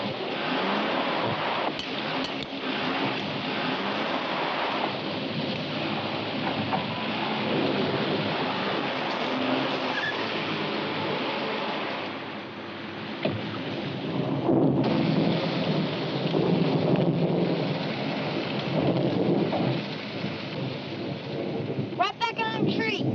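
A thunderstorm with rain rolls through, steady rainfall hissing throughout while thunder rumbles and cracks at intervals, loud and close, with no voices.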